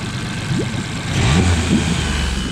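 A Mercury 40 hp outboard boat engine revs up from idle, its mid-low engine tone rising and swelling louder for about a second before settling, close and steady with no talk.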